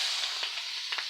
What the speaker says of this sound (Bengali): এবার তেলের মধ্যে আমি দিয়ে দেবো পেঁয়াজ কুচি, মরিচ কুচি